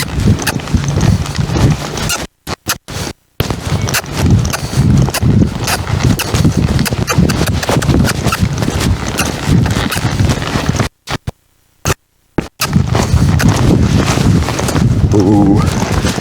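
Horse hooves clip-clopping in a steady walking rhythm during a first ride on a mare, close and loud with wind buffeting the microphone and a rider talking over parts of it, broken by brief silent gaps.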